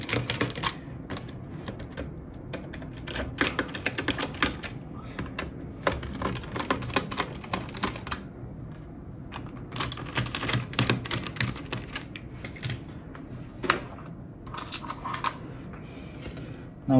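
A screwdriver unscrews the screws from the bottom case of a Dell Precision 7540 laptop, giving close, quiet, irregular clicks and ticks in bursts that continue throughout with no talking.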